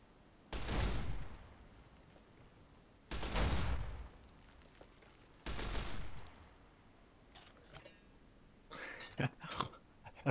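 Gunfire in Fallout New Vegas comes in three separate loud bursts, each lasting about a second with quieter gaps between them, followed by a scatter of sharper, shorter shots toward the end.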